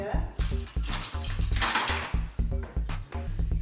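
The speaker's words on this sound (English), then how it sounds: "let me just grab a spoon over here" Metal spoons and kitchen utensils clatter and clink close by as someone rummages for a spoon, with quick repeated jangling hits and a few scrapes, and a voice speaks briefly under the noise.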